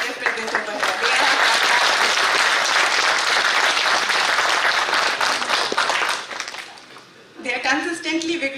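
At a power electronics engineering conference, an audience gives loud, dense, sustained applause for the student volunteers for about seven seconds. It fades, and a speaker's voice follows.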